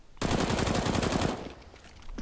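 A burst of rapid automatic gunfire rattles loudly for just over a second in a first-person shooter match, then fades to quiet with a faint sound at the end.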